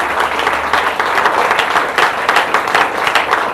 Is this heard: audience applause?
yes